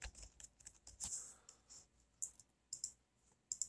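Computer keyboard typing while entering measurements in CAD software for 3D printed hot rod parts: scattered quiet key clicks in short bursts, close and faint, with no talk.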